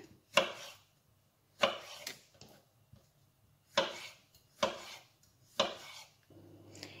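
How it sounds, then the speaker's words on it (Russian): A knife slices apricots into wedges on a wooden board, five sharp, evenly spaced cuts in a quiet kitchen. "Абрикосы я нарезаю дольками."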